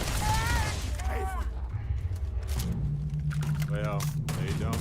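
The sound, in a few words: gunfire in the video game Starfield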